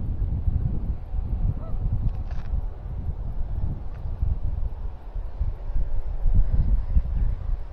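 Flock of hundreds of birds, likely geese, honking on the marshland of the Hayle estuary in Cornwall, a steady distant chorus of calls under heavy wind noise.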